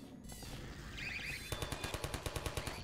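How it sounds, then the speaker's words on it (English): An automated turret in Half-Life 2 opens fire after a brief electronic chirp, loosing a rapid, evenly spaced stream of sharp shots that stays loud and close until the end. "Oh, it's a turret."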